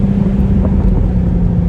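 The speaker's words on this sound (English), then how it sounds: "I do like the way the exhaust is just rumbling and burbling there in the background, even at the lower speeds" A 2021 BMW M4 Competition Convertible's exhaust rumbling and burbling at low speed, a steady deep drone heard from inside the car, loud and continuous with no talking.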